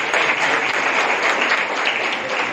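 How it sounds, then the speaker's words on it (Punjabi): Dense, steady applause from an audience at an International Women's Day gathering fills the whole stretch, loud and even with no pauses. "ਤਾੜੀਆਂ ਮਾਰੋ, ਸ਼ਾਬਾਸ਼"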